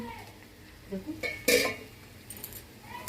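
A lid comes off a pot of Bohri-style cauliflower dum cooking on medium-low flame, followed by scattered metal clinks and scraping of a spoon stirring, with one louder clatter of cookware partway through.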